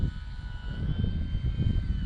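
Arrows Bigfoot RC airplane drifting overhead at Eastgate Park, its motor a steady, faint buzzing drone at moderate distance, carried on the wind with no voices.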